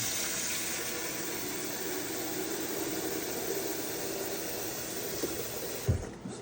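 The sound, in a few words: water from sink tap filling instant water heater tank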